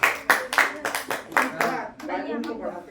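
A group of friends claps hands at the Rock Garden, a run of sharp, close, fairly loud claps in the first half that gives way to voices talking.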